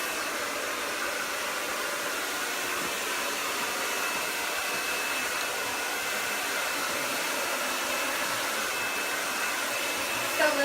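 Salon hair dryer blowing steadily while hair is blow-dried, a continuous close whoosh of airflow with a constant motor hum, loud and unbroken throughout with no talking.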